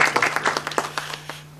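Brief, scattered clapping from a small audience after a talk, a handful of claps at a quick irregular pace that fades out within moments.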